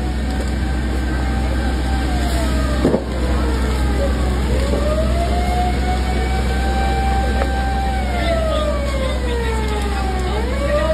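A fire truck's siren wails continuously, rising and falling in long sweeps, as it arrives at a residential fire on Antipolo Street, Guadalupe Nuevo, Makati City. A steady engine rumble sits beneath it.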